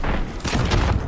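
A loud, booming RPG rocket explosion in Call of Duty: Black Ops 6, a short dense blast with rumbling spread across the whole burst.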